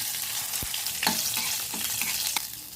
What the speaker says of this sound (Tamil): கடுகு கொஞ்சம் போட்டுக்கிடலாம் ரெண்டு மிளகா வத்தலை வந்து பிச்சுட்டு சேர்த்துக்கலாம் ஒரு கொத்து கருவேப்பிலை போட்டுக்கலாம்